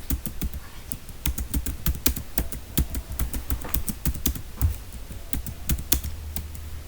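Rapid clicking of keys on a computer keyboard as a search term is typed, close and clear, with irregular bursts of keystrokes and no talking.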